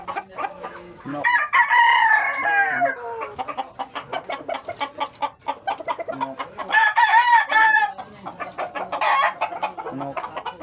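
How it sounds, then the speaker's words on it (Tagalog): Chickens cluck continuously while roosters crow loudly and close, with repeated crowing calls rising over a busy farmyard background. "Meron pa po ritong ibang mga manok."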